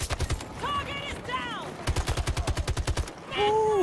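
Rapid automatic weapon bursts in Battlefield 2042, a short volley up front then a longer sustained string of sharp, evenly spaced shots, with voice-like tonal game sounds between and over them.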